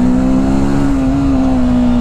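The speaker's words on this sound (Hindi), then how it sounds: "मैं इसको मैक्सिमम पावर वाले मोड पे चला रहा हूँ" A 2023 TVS Apache RTR 310 motorcycle ridden in maximum power mode, with a loud, steady engine drone holding a constant pitch close to the mic while wind roars underneath.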